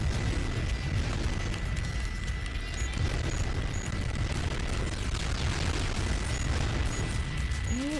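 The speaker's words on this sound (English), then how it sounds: "just enjoying some explosions here" Continuous loud rumbling blasts and booming explosions from Sonic Adventure 2 Battle, dense and sustained throughout with a brief whistling tone near the end.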